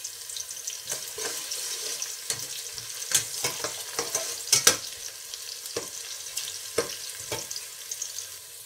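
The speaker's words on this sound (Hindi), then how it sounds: "इलायची में 2 डालूँगी, काली इलायची, और इनको भी इनके साथ ही भूनने देंगे।" Cinnamon pieces and black cardamom fry in a pan for a chicken potato pulao, a soft continuous sizzle broken by sharp scraping clicks of stirring at an irregular pace, with no talking.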